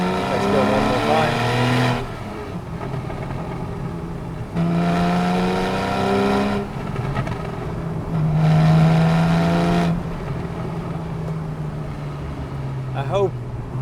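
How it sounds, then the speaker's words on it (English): Porsche 911 Carrera S 991.1 engine burbling in second gear at about 35 mph, loud and close, with throaty pulses swelling and easing in several bursts, a voice speaking between them. "Beautiful burble you get, and that is second gear at 35 miles an hour"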